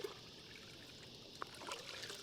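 Water from shallow water trickling and dribbling into a container as it is dipped in, a faint continuous wash with a brief splash partway through, no talking.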